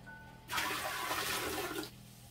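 A clogged household toilet flushes in a single burst of rushing, gurgling water lasting over a second, then drops back to a quiet room tone with no voices.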